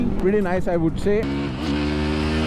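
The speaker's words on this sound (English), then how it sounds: "you can hear more bassy and thumpiness in the exhaust sound" A TVS Apache RTR310 motorcycle exhaust holds a steady, deep, thumping low rumble at idle, running continuously beneath a voice that talks over it for the first half.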